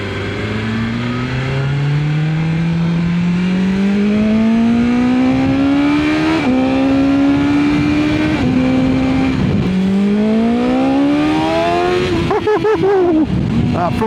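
A BMW S1000XR motorcycle engine, rated at 170 bhp, accelerates hard through several gears. The loud, close howl climbs in pitch, drops at each shift, then climbs again before a final raspy burst.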